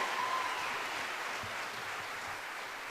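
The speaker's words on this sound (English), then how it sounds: "Can we give her one round of applause, please?" A live audience applauds a mariachi singer, producing a steady, even wash of many hands clapping at moderate distance with no voices standing out.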